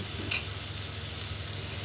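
Crushed garlic frying in spiced tempering oil, a brief steady close sizzle with a single faint clink near the start.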